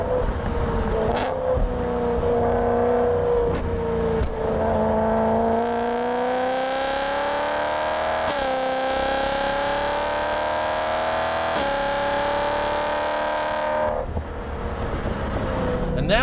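A supercharged BMW M3 E92 with a dual-clutch gearbox driving on a race track, its engine droning and rising steadily through the revs, with brief shifts and a lift near the end, loud and close from inside.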